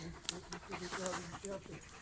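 Close, quick rhythmic panting from dogs on a mushroom hunt, breathy huffs with faint whimpery tones, while a person talks softly alongside.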